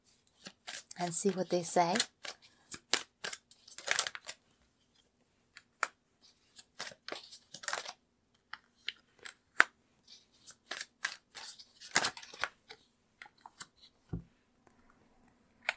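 Tarot cards are drawn and handled in a series of brisk, close, crisp snaps and slides, scattered irregularly through the quiet, with a voice speaking briefly between them.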